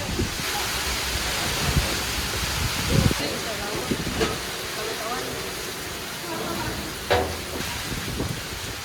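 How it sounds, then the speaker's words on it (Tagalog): Heavy rain and strong wind from Typhoon Kristine roar as a steady, dense wash with occasional louder gusts, while a person talks faintly under it. "nagpapasimula na ang bagyong Christine na magpakita ng malakas na hangin at ulan"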